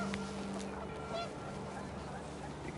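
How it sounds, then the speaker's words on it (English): Panicked geese honk in the game What Remains of Edith Finch, a few short, distant calls lying faint under a steady wash of wind noise. "The wind picked up, and panicked geese appeared and quickly went."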